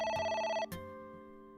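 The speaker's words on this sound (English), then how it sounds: "Oh, It's the phone." An electronic telephone in the video game AI: The Somnium Files rings with a bright, steady trill, then a second ring burst starts and decays into a lingering tone, clear and alone with no talk.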